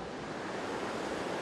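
Ocean surf on a California beach, a steady broadband wash of breaking waves with some wind, continuous and fairly distant, no voices.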